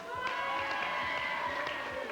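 Studio audience applauding game winners on a 1993 French TV video-game show, steady clapping and crowd noise with sustained tonal music running underneath.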